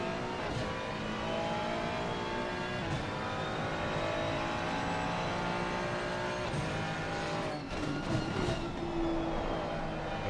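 A BMW race car engine roars continuously at Zolder circuit during a pro-am race, loud and sustained with shifting pitch as it brakes and accelerates, mixed with other cars nearby.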